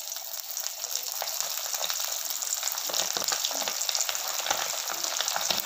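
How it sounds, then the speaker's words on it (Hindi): Potatoes frying in mustard oil for dum aloo give off a dense, continuous crackling sizzle with bursts of stirring. The sound is close and steady, with no talk. "और इसमें हम आलू को फ्राई कर लेंगे"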